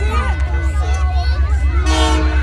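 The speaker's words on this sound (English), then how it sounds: "Christmas train. It's a half-hour late." CP Rail Christmas train horn sounding as the train pulls into Rouses Point, New York, running half an hour late. Sustained horn tones rise over a steady low rumble and the murmur of a crowd of several thousand.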